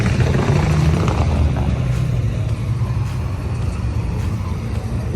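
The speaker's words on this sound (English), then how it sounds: "These people are driving way too fast on that curve." Cars take a curve fast at an outdoor car show, a loud continuous engine and road rumble that swells and eases slightly, with no clear speech.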